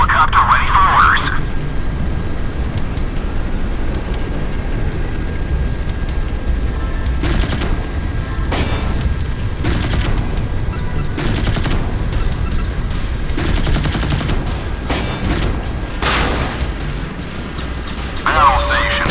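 Naval gunfire in the Modern Warships game aboard the cruiser USS Port Royal: bursts of rapid cannon shots crack over a constant low engine and battle drone, with voiced announcements during the action.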